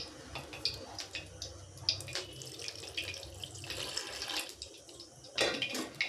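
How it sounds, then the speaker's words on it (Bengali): Water poured and stirred into ground rice batter for taro-leaf pakora in a home kitchen, an uneven splashing trickle with soft wet sloshes and a louder pour near the end, no talk. "এটাকে আমি জল দিয়ে একটা ব্যাটার বানিয়ে নেব"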